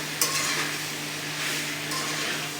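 Food frying in oil in a pan, stirred steadily, with a continuous close sizzle and a scrape of the utensil against the pan near the start.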